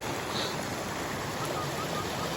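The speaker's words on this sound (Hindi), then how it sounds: "ये आबशार, वो ऊपर से पानी आ," Steady rushing water from a waterfall pouring down from above beside an old lake in a valley park, a broad, even wash of noise with no pauses, heard close and alone.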